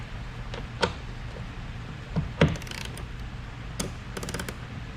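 A ratchet drives a 5/8 socket while an autopilot is installed on an Old Town kayak, giving a few short clicking bursts spaced apart over a quiet, steady background hum.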